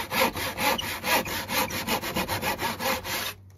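A tenon saw cuts the corners of a wooden flower pot stand base held against a bench hook in a vise, with about a dozen quick, rhythmic rasping strokes close by that stop abruptly at the end.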